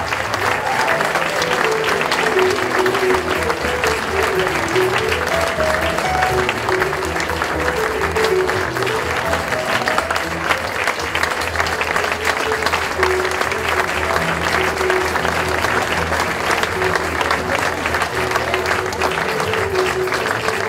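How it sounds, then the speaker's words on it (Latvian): Sustained applause from a school anniversary concert audience at Talsu Secondary School No. 2, dense and steady for the whole stretch, with faint tonal voices or music threaded underneath. "Paldies par ovācijām un sirsnīgajiem aplausiem."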